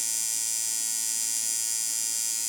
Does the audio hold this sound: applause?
no